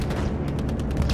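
Bombing run explosions in the World War II shooter Hell Let Loose, heard as a dense, continuous wall of booms and rumbling blasts with scattered sharper cracks, loud and steady throughout, with no voices.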